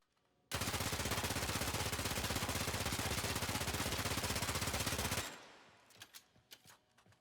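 Azima gun in the Warframe video game firing full auto: a dense, loud, unbroken rattle of rapid shots lasting nearly five seconds, stopping abruptly and followed by a few faint clicks and taps.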